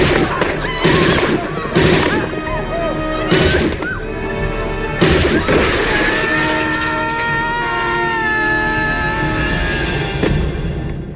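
Gunfire in a RoboCop film scene comes as several loud, booming shots spaced a second or two apart, ringing out over music and a dramatic score with voices in the mix.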